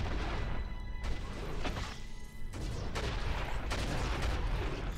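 Repeated explosions and bomb blasts from Baldur's Gate Dark Alliance 2 come as a dense run of loud booming bursts, one after another with brief gaps.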